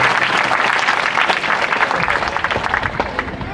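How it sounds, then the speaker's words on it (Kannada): A school gathering for a Saraswati Puja function applauds its headmaster and teachers with a dense, loud wash of clapping from many hands that runs steadily throughout. "ಚಪ್ಪಾಳೆಯ ಮೂಲಕವಾಗಿ ಅಭಿನಂದನೆಗಳನ್ನು"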